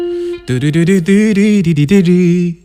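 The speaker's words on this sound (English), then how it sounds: "try to replicate that melody on the keyboard" A short melody of sustained notes with a clear tone, stepping up and down in pitch, played solo after a brief quiet lead-in.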